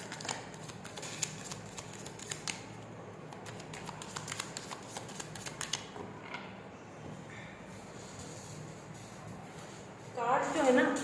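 Tarot cards being shuffled by hand, a run of soft rapid riffling clicks at close range, with a brief louder rustle near the end and a voice speaking quietly underneath.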